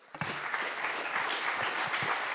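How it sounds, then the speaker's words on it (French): Conference audience applauding three panel speakers after a round-table debate on data and digital transition, clapping starting abruptly and holding as a dense, steady crowd wash with occasional individual claps standing out. "Je vous propose de les applaudir"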